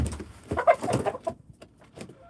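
Chickens cluck and coo in a coop, several soft calls scattered irregularly over steady background noise, fairly close but not loud, with no talking.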